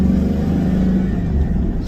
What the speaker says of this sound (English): Let me give this car a little pull and see how she does.